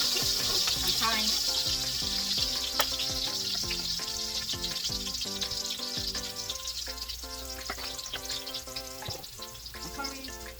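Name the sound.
onions frying in a pan with curry powder and thyme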